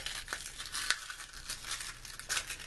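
Sandpaper is folded by hand at a sewing machine repair bench, giving a few soft crinkling and scraping rustles, close and quiet, with no voice.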